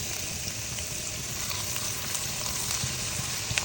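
Onion and garlic frying in oil in a pan for pork sinigang, with a steady close crackling sizzle that holds at an even level throughout.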